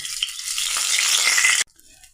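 Ginger and cumin paste hits hot oil with whole cumin and bay leaf in a frying pan, giving a loud, bright hiss that builds and holds for over a second before cutting off abruptly.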